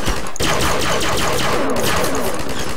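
A gun firing rapidly in Garry's Mod, a loud, dense stream of shots that runs almost unbroken for about three seconds with a brief gap near the start.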